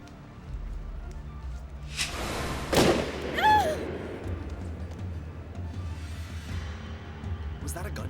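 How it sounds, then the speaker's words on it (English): A gunshot sound effect in a drama: a single sharp blast at close range, followed by a brief echoing tail and a thin ringing whine, over a low steady background. "Was that a gunshot?"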